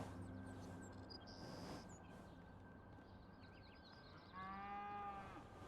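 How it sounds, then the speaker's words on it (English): A cow moos in the video game PowerWash Simulator 2, one drawn-out low call rising near the end, faint under steady background noise. "I hear a cow."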